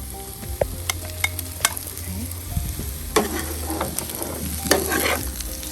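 Parboiled potatoes tumble into a hot pan of oil for Sri Lankan devilled potatoes, sizzling steadily and loudly up close while a spoon scrapes and clinks through them in irregular bursts, with no talking.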